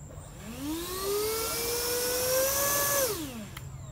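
A homemade RC model of the Lockheed Martin DarkStar jet, stuck at the top of a tree, has its electric motor throttled up into a rising, steady whine that holds for a couple of seconds and then winds down, heard from a distance.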